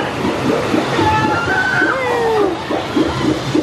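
Water splashes and sloshes at a water ride in Universal Studios Florida's Springfield area, a steady rushing wash of water under a busy theme park crowd with excited voices and squeals.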